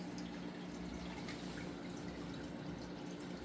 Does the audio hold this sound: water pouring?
yes